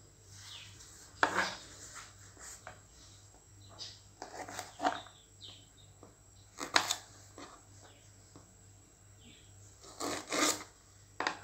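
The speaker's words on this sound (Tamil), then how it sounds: "நல்லா தின் ஸ்லைஸில் இப்படி கட் பண்ணிக்கோங்க" A knife slices ivy gourd into thin rounds on a cutting board, giving soft irregular scraping taps and rubbing strokes, close but quiet, with brief louder cuts scattered throughout.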